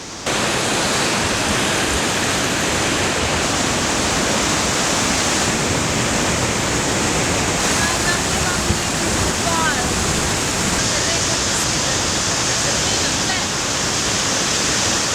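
Water pours steadily from a freshwater spring, the island's only source of drinking water, on Nusa Penida, producing a constant loud broadband rush like a small waterfall that fills the whole stretch without pause.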